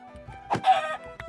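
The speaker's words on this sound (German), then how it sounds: "Blöden Hühner." Minecraft chickens make a few short clucks and squawks, close by and fairly quiet, in quick succession.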